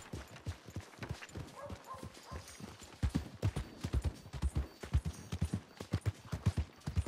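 Steady clip-clop of horse hooves on hard ground in Red Dead Redemption 2, growing louder and more regular partway through, with a faint background ambience.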